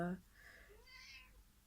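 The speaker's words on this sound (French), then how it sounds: "Mon chat qui s'en mêle, hein." A domestic cat gives a drawn-out meow indoors, soft and fairly close, with a short voice at the start.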